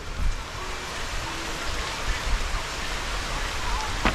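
Heavy rain pours steadily over a banana plantation, a dense, loud, unbroken hiss of drops that holds for several seconds, with a few faint thumps.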